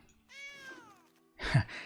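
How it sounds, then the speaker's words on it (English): A monster lion card in the video game MtG Arena gives a single small, high cat meow that falls in pitch, short and faint, followed by a brief breathy noise. "That was like a really big epic like monster lion, and it did a little meow."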